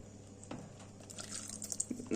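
Cherries and their juice poured into cake batter, a brief run of soft wet drips and splashes, quiet and close.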